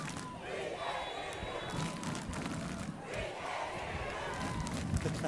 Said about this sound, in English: Hey, our crowd's getting into it.